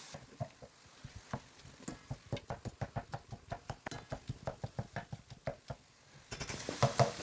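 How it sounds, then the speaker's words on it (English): Ground meat cooks in a pan while a utensil chops it apart with quick, steady scraping knocks. The sound is faint and close, and a brief louder burst of clatter comes at the end. "Continue chopping the meat until it's broken into the size you want and fully cooked."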